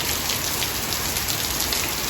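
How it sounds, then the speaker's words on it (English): Dense, steady hiss of heavy rain pouring down, loud and close, with constant pattering on surfaces and no voices. "This is quite the downpour."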